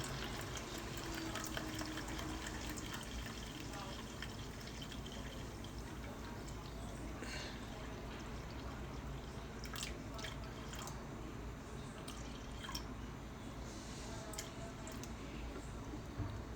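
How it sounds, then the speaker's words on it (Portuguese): Water is poured steadily into a pot for a pasta dough made with beer and old dough, a faint, continuous splashing trickle in a home kitchen with no talk. "E vou colocar agora 300 de água, completando 500, meio litro."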